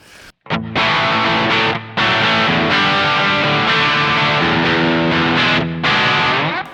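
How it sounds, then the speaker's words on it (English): An electric guitar through a Fulltone OCD overdrive pedal plays heavily distorted chords, loud and sustained, with brief gaps between strums. "if I had a multi-channel amp, I would go to the dirty channel"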